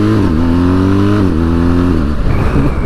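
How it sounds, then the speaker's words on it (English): A BMW R1250GS TE Triple Black boxer-engine motorcycle revs hard nearby, its pitch climbing then dropping between gear changes with a throbbing, wobbling tone and small pops on the overrun, loud over wind rush. "It's that noise, that's the GS noise for me. It's the wob wob wob and it's the pop between"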